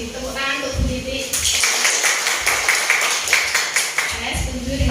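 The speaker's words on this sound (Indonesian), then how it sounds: "Tepuk tangan untuk Bu Titik" Group clapping for a woman named Bu Titik at a teacher discipline session, a brisk rhythmic patter of hands starting after a moment of talk and continuing steadily, with voices speaking over the start and end.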